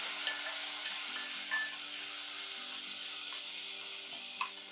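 Shallots and a small tomato sautéing in a pan for Tirunelveli-style sambar, heard as a faint, even sizzle with a couple of light clicks of a utensil.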